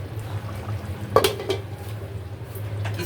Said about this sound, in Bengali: নাড়াচাড়া করে ঢাকনা চাপা দিয়ে 3 থেকে 4 মিনিট রান্না করব